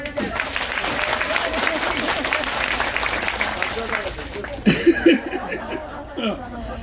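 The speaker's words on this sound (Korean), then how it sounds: "기본 박수 한번 칩시다." An audience at a live political podcast talk bursts into applause, dense clapping filling the room for several seconds before thinning out among chuckles and scattered voices.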